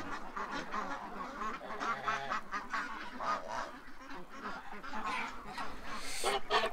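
A flock of geese and ducks being shut in for the night fills the air with repeated close, loud honks and quacks that overlap in a busy, uneven stream throughout.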